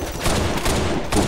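Gunfire in the zombie shooter Left 4 Dead, a dense burst of rapid shots stacked loudly over each other with brief surges, close and continuous for its whole length, no talk over it.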